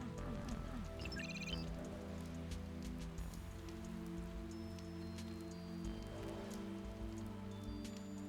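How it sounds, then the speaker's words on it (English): Rain falls steadily in a soft, continuous patter on surfaces, faint and even, with game sounds playing underneath. "Hear the rain? That's my ASMR right there."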